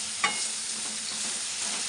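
Ridge gourd sizzles steadily as it is stir-fried in a pan for a potato and poppy seed dish, with one sharp stir-clatter near the start and a continuous hiss throughout.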